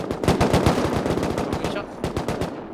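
Rapid automatic gunfire in the video game Rust, dense bursts of shots fired close and loud, broken by a short pause before another run of shots at the end.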